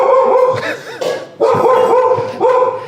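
A dog barks in a few quick yips and bow-wows at close range, loud and clear with short gaps between bursts, no talking heard.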